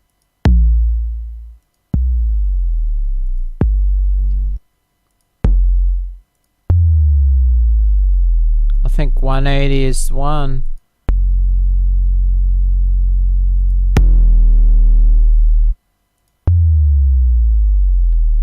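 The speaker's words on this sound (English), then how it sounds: "Let's have a listen to our subs." Deep synthesizer sub bass notes with a slowly falling chirp, played loud one after another with short gaps, mostly alone, with a brief spoken remark partway through.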